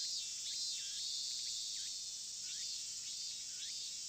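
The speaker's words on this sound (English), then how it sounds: "The deafening silence was broken only by the cries of cicadas." Cicadas cry in the visual novel game Chrono Clock, a loud, continuous high buzzing drone with repeated rising and falling chirps layered over it, steady and close.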